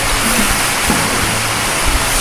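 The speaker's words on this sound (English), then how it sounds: "It pumps the water through this pump." Water pumped through the hose of a gold dredge in a prospecting stream bed, a steady, loud, broadband rush with no pauses and no voices.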